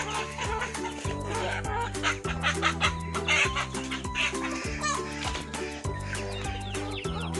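Large free-range farm chickens cluck and call in a steady busy chorus, close and fairly loud over a continuous background of droning music or machine tones.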